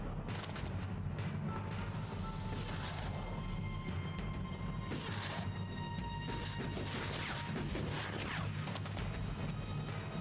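Gunfire in the video game Elex, dense loud bursts of shots and booming impacts crackling continuously throughout, with no talking.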